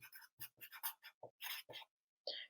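Writing during a second-grade lesson: a run of short scratchy strokes in quick irregular bursts, close and fairly quiet, with brief pauses between groups of marks.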